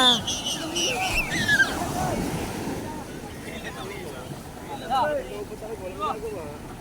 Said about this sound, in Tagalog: Yeah, may alon.